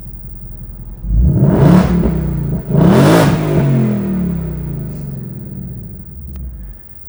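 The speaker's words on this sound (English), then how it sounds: "Now let's go to sport mode. The baffles open up just a little bit more." Exhaust of a 700HP 2020 Mustang GT sleeper in sport mode, with baffles opened, revved twice, each deep rising roar falling away, then settling into a low rumbling idle, loud and close.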